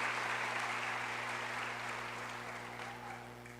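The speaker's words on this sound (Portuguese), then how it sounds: "dá um glória, um aplauso para Jesus" A church congregation in Santarém applauds for Jesus during a sermon, a broad, even roll of clapping over a low steady hum, easing off slightly toward the end.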